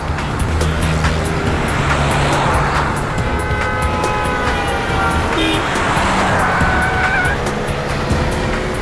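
A car cruising along a road, a steady engine and tire roar with passing-traffic swells and a few brief higher tonal squeals over continuous road noise.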